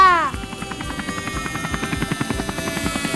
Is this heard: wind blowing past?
no